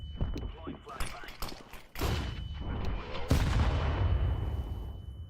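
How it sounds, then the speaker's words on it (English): Counter-Strike 2 match with gunfire and explosive bursts from grenades, including a thrown flashbang, sharp loud cracks followed by sustained noisy booms and a faint steady ringing tone, game sounds playing alone. "Deploying flashbang."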